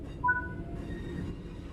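A train in Train Sim World 5 coasting along the rails, with a low steady rumble and brief faint tonal squeals from the wheels over a quiet background.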